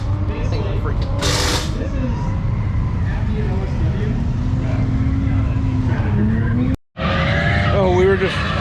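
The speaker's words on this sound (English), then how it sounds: "we were just standing here watching drifting" Cars drifting at a night drift event, engines roaring and tires skidding continuously and loud, with a brief drop to near silence before another screeching pass; people talk nearby.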